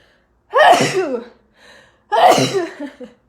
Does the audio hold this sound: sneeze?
yes